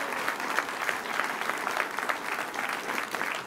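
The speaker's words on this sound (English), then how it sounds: "another round of applause" Dense audience applause at a political event for veterans, steady many-handed clapping that fills the room evenly and stays strong throughout the few seconds.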